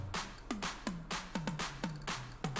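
Sharp percussive clicks from a music beat production, about nine short bright transients in an irregular rhythm, each followed by a falling low tone, heard alone with no talking.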